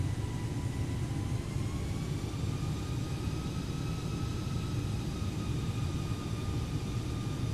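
Cabin drone of an Airbus A320neo on approach in Microsoft Flight Simulator, a steady, even engine roar with a faint whining tone gliding slightly in pitch, continuous and unchanging throughout with no talking.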